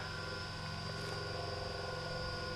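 DJI Phantom 2 quadcopter drone with its motors running, a steady close whine of high tonal hum and buzzing rotors holding level and loud throughout.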